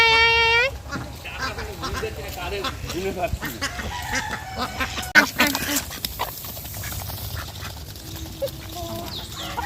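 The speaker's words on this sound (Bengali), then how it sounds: "হাঁসগুলো স্নান করছে দেখাচ্ছি" Ducks quack and chatter steadily nearby as they bathe in rainwater, amid splashy outdoor noise, with a person's voice calling out over them.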